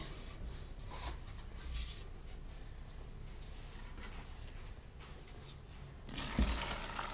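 Water is poured a little at a time into an open bowl of flour (maida) while making a Pakistani halwa, a faint trickling and splashing that swells louder near the end, with no talk.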